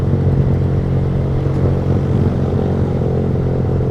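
Motorcycle fitted with a loud racing exhaust rides along an Indonesian road, its engine droning steadily and close at a constant pitch throughout, with light clatter and no talking.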